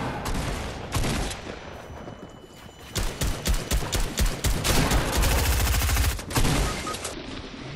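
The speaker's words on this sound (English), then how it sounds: "these assault rifles are more inaccurate now" Assault rifles fire in a Fortnite Battle Royale match in loud, rapid bursts of sharp shots. The bursts repeat and overlap over several seconds with brief gaps between them.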